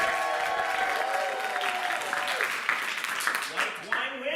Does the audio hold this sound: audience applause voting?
yes